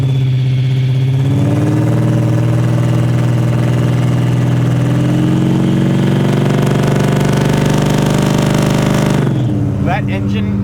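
The supercharged engine of a 1971 Chevrolet Camaro Pro Street, heard from a ride along, drones loud and steady, climbs slightly in pitch early on, then drops off abruptly near the end.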